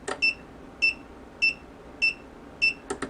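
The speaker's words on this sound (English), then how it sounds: "I do wish it was a longer beep, but I'll take what I can get." An Omnibus F4 flight controller's buzzer emits a steady series of short, high electronic beeps, five evenly spaced chirps about six tenths of a second apart, followed by a couple of quicker clicks at the end.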